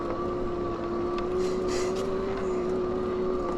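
HAOQI Antelope Pro 750W dual-battery cargo e-bike under throttle, a steady electric motor whine holding one pitch over continuous road and wind rush, close and even throughout.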